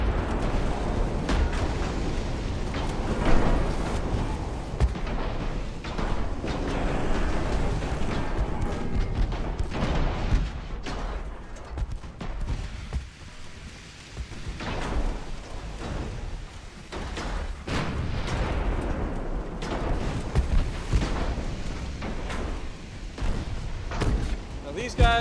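Naval gunfire from warships in the game Ultimate Admiral Dreadnoughts, a steady stream of heavy booms and rumbling salvos running throughout, with someone talking over it.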